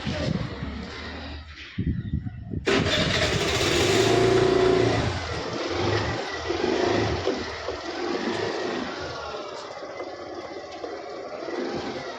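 A car engine starting after a brief pause, then revving loudly and settling into a steady idle hum, close by with some background noise.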